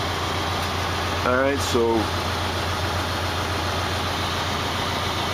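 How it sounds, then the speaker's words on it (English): A truck engine idles steadily in the cold, a low constant hum throughout, while someone speaks briefly over it. "I'm just warming up the engine now"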